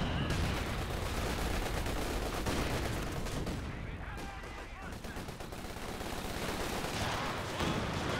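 Sustained suppressive machine gun fire in a Company of Heroes 2 battle, dense overlapping bursts and volleys rattling continuously at close range, loud throughout with artillery-like thumps mixed in.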